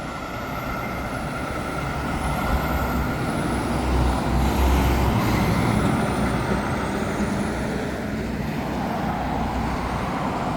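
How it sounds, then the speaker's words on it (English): A truck turns out of a driveway onto Highway 20, its engine rumbling steadily with a hiss of air brakes midway, set against continuous roadside traffic noise and heard alone without talk. "And here we have another truck. He's turning out this way."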